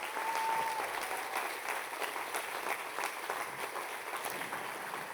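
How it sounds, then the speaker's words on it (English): Steady, sustained applause from a crowd, with a brief whistle near the start. "let's stand up and give them a round of applause"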